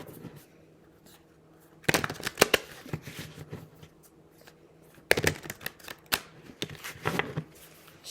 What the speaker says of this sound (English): Give them a good ruffle shuffle again